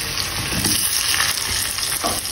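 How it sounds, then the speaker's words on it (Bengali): Potatoes for french fries deep-frying in oil already used for chicken, a steady loud crackling sizzle running unbroken with no talk. "এবার চলে যাচ্ছি ফ্রেঞ্চ ফ্রাইগুলো ভাজার জন্য। আমি যে চিকেনগুলো যে তেলে ভাজছি ওই"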